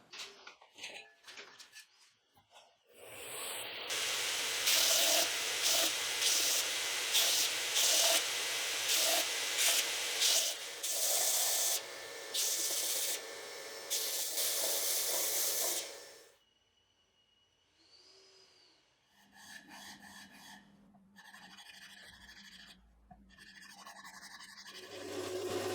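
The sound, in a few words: belt sander sanding clamp handle with 120 grit belt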